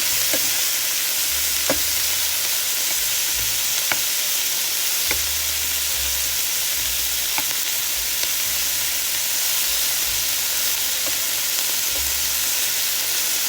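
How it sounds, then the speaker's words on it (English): Steak bites fry in a hot pan, a constant loud sizzle with occasional light clicks and scrapes as they are stirred, no voices. "I'm going to cook my steak bites. All right, I let them cook about 5 minutes. One side, then I stir them."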